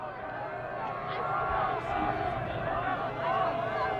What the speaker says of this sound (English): Souhegan trying to have that crowd noise here on the road with the bench and their fans on the far side of the field